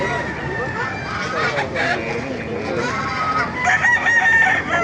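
Chickens cluck and roosters crow loudly nearby at a chicken market in Baliuag, Bulacan, several birds calling over one another in a busy, continuous din, with people talking underneath.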